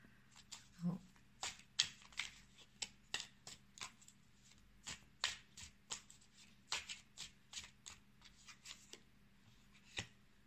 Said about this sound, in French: J'ai une première carte qui a sauté.